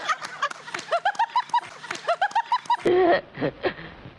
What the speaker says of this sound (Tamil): மயில் சிரிக்குது